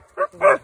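A hunting hound dog gives two quick, loud barks close by, a short yelp followed by a fuller bark, during an outdoor raccoon hunt.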